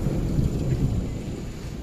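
Thunder rumbles low and continuously through heavy, steady rain, the downpour hissing throughout without pause.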